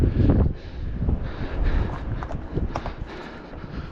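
Wind buffets the microphone on a mountain summit, a loud gusty rumble that rises and falls continuously with scattered rustling, no voices.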